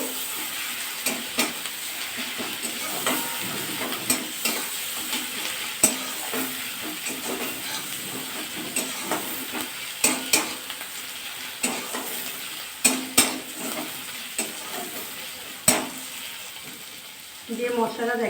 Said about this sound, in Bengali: রসুনটা একটু ভাজা হয়ে যাক